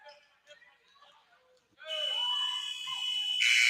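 An end-of-period buzzer at a college basketball game, South Arkansas at North Arkansas College in Harrison, Arkansas, blares as a long steady electronic tone after a quieter stretch of faint arena noise, then swells louder near the end.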